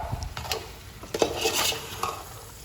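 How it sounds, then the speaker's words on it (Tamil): Crab being stirred in a frying pan, a few metallic scrapes and clinks of a spoon against the pan over a faint sizzle, close and brief. "இப்போது இந்த நண்டை போட்டு நல்லா கிண்டணும்"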